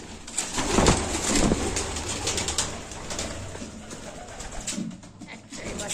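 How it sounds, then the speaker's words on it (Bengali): Pigeons cooing inside a pigeon loft on a pigeon farm, a soft murmur of calls under steady broadband background noise, with a few louder bursts that may be wing flaps. "আর এই যে কিছু পায়রা ঘরে আছে"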